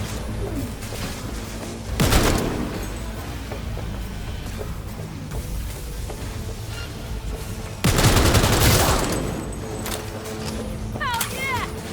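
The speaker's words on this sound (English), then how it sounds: "Quite the fireworks show" Bursts of fireworks crack and pop in rapid volleys during the ending sequence of the video game Cyberpunk 2077, with two louder clusters of blasts over a steady din and brief whistling near the end.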